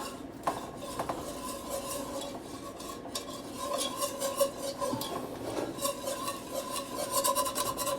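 A cream sauce for creamed chipped beef is stirred in a metal pan, a spoon scraping and rasping steadily against the bottom with light clinks, close and moderately quiet, no voices.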